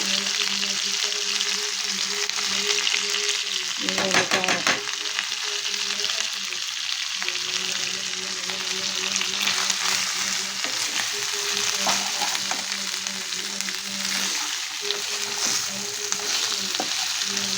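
Chicken curry sizzles and bubbles in a pan, a steady loud frying hiss throughout with occasional stirring scrapes and a faint hum.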